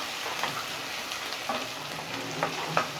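Chopped onion sautéing in hot oil for a spicy potato curry, a steady close sizzle and frying crackle with occasional stirring scrapes throughout.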